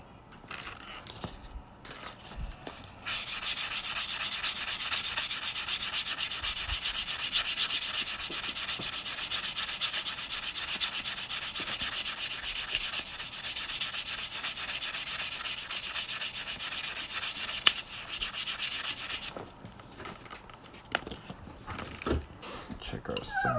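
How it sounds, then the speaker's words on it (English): Abrasive rubbing on the freshly cut edge of a silver coin ring, a steady close sanding rasp lasting about fifteen seconds, with brief handling noises before and after. "I'm going to go ahead and sand this cut edge real quick."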